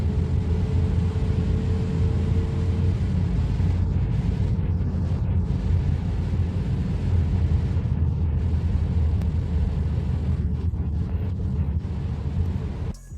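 BMW F30 328i with stage 1 tune and downpipe running hard on a dyno in four-wheel drive, a loud steady engine drone with deep rumble held for many seconds, no talk.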